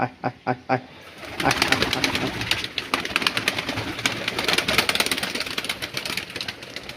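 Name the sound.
pigeons being released from their loft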